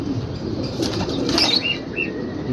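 Pigeon wings flap in a brief flurry against a steady outdoor background, with a few faint chirps near the end.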